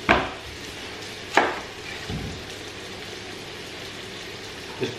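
Finely diced onion and sausages sizzle in a pan with a steady, close hiss, broken by a few sharp clicks and light knocks as food drops into the pan.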